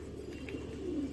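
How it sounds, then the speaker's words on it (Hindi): A male Tonk pigeon gives a soft, low coo, brief and close, over a quiet room hum. "मैंने मेल कबूतर लिया है, ये टोंक का कबूतर है"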